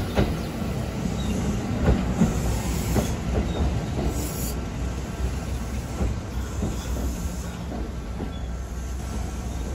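A Kintetsu local train runs between stations with a steady low rumble and rhythmic clickety-clack of wheels on the rails, heard from inside the carriage with faint squeals at times.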